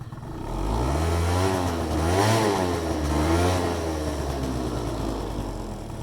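A Honda scooter with poor power and unstable idle, its engine running near and loud, rising into a couple of revs and settling back to a rough idle, no speech over it.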